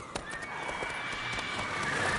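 Roach, the horse in The Witcher 3, gives a neigh over hoofbeats: a short whinny rides on a dense stream of clopping and rustle at moderate loudness, with a faint voice underneath.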